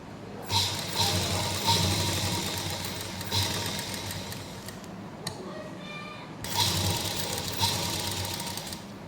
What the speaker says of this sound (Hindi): उसके बाद हम इस तरह से सीधी सिलाई लगाते जाएंगे जब तक हमारा अगला कट नहीं आ जाता।